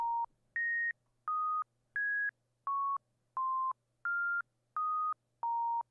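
A basic synthesizer tone from demo music plays as a row of nine short, clean beeps at shifting pitches, evenly spaced and clearly audible over near silence.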